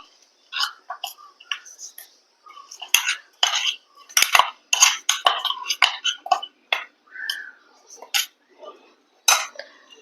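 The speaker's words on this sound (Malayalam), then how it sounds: "പൊടിച്ചെടുത്ത മിക്സ് എല്ലാം കൂടെ നമുക്കൊരു പാത്രത്തിനകത്തോട്ട് മാറ്റി കൊടുക്കാം എന്നിട്ട് ലാസ്റ്റ് നമുക്ക് എല്ലാം കൂടെ നല്ല ഉടമ്പ് മിക്സ് ചെയ്തെടുക്കാം" A metal spoon clinks and scrapes repeatedly inside a vessel while mixing ground drumstick leaf chutney powder, close and crisp, with irregular bursts of tapping and stirring separated by short pauses.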